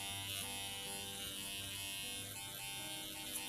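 A rug tufting machine carving a tufted rug, a steady close electric buzz running unbroken from start to finish with no voices.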